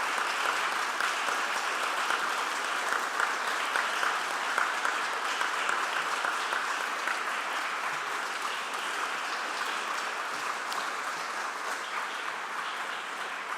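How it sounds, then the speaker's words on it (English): An audience at a climate candidate forum applauds the candidates and organizers, a dense, sustained clapping that stays even and fairly loud across the whole stretch, with no voices above it. "Let's have a round of applause for the candidates and for the people who organized the event."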